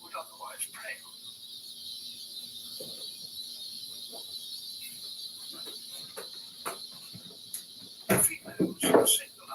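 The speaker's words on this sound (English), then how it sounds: "there may be hundreds of cicadas, and many hundreds of thousands throughout the forest, creating a noise so loud it repels the birds" Cicadas in a forest keep up a steady, high, monotonous drone throughout, with a calm voice narrating over it and a few brief clicks near the end.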